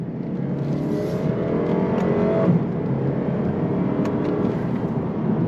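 A 2025 Lexus IS 300 rear-wheel-drive sedan revs hard under throttle in manual paddle-shift mode, its engine note climbing steadily, dropping at a quick gear change, then pulling up again, loud and close.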